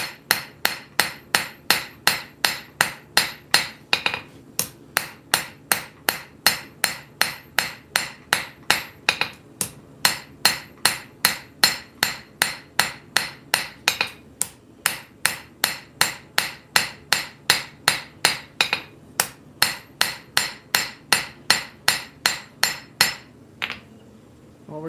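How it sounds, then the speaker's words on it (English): Straight peen hammer forging out a taper: a long, steady train of sharp, ringing metallic blows, close and evenly paced with only brief pauses, and no talk. "With that square, switch to our straight peen. Start pulling this taper out."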